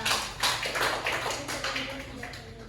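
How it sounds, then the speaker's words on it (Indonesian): A small classroom group claps for a student, a short uneven patter of hands that starts sharply and tapers off, fairly quiet and close. "Boleh tepuk tangan dulu ya Yola"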